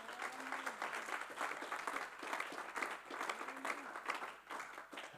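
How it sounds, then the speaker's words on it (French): A church congregation applauds during a sermon, clapping in rolling waves with some faint voices mixed in. The sound is fairly quiet and distant. "Acclame Jésus, acclame Jésus"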